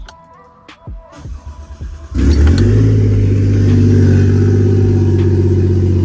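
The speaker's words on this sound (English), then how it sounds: "I'm gonna start the car if it's got enough juice" A 2001 Lexus IS300 SportCross engine, swapped to a 1JZ VVTi, cranks on a weak battery with a few clicks and starter whirs, then catches and settles into a steady, loud idle rumble close by.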